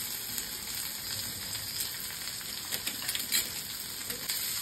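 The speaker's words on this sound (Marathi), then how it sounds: "आता छान असं मस्त मी परतून घेते तेलामध्ये।" Onion, green chili, curry leaves and crushed garlic sizzle and crackle in hot oil in a pan, a steady close frying hiss with faint stirring clicks and no talk.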